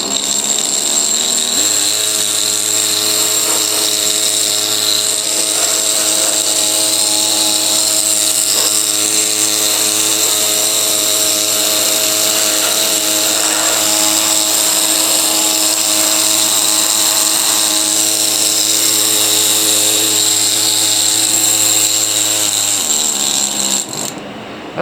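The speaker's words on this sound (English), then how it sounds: "I've got the heater blowing on it too from over there across the room." A heater blows strong air across a room onto a large fish from Lebanon to speed-dry it, giving a loud, steady whirring hum with a constant motor drone that runs unbroken for the whole stretch, then cuts off at the end.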